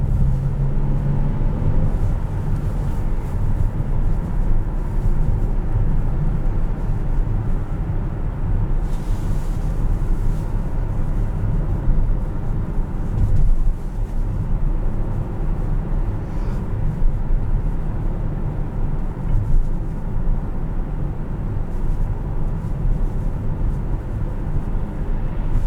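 A 2018 Honda Odyssey EX-L's engine drones steadily from inside the cabin while driving, a continuous low rumble with road noise that holds at a constant level throughout, with no talking.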